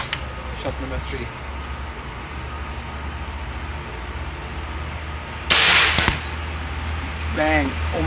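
An Umarex Air Saber air rifle fires an arrow outdoors, a single sharp, loud pneumatic crack near the middle, with a steady low rumble beneath and brief faint voices around it.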